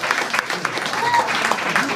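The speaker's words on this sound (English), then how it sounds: "He continues to give a nice round of applause." An audience gives a steady round of applause, dense even clapping that fills the short stretch without pause, with no voices standing out.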